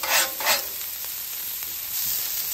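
Beef searing on a Halo griddle, a soft broad hiss with a couple of scraping spatula strokes near the start, fairly quiet and steady, no talking.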